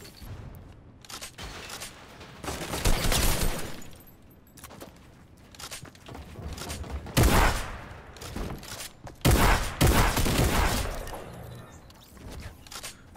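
Rapid bursts of video game gunfire crackle through a 1v1 match, loud volleys clustering around several peaks with brief lulls between, alone without talk.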